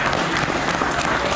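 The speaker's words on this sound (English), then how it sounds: "Give them a round of applause." A crowd at a bull sale bursts into loud, dense applause, with continuous clapping that fills the space throughout.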